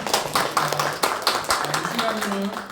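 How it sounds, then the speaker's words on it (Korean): A church congregation at a men's mission service claps in a loose series of distinct, moderately distant hand claps, with a voice speaking over them. "박수 한번 드릴까요?"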